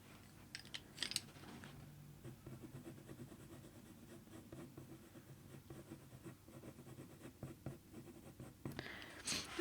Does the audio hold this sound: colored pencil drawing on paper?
yes